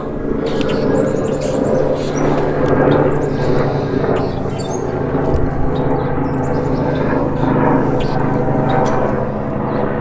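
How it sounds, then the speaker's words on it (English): A helicopter flies overhead, a low continuous rotor rumble at moderate distance lasting throughout, outdoors on a warm day with faint background sounds. "Better wait for that helicopter."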